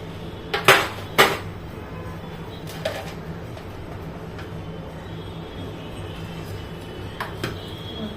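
A lid set down on a pan of freshly cut, still-warm Mysore pak before it is flipped over, giving two sharp metallic clanks near the start, then a few faint clinks over a quiet background.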